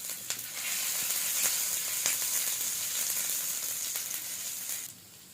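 Ginger frying in sesame oil in a pan hisses and crackles steadily, with a few sharp pops, then cuts off near the end and leaves a quieter background.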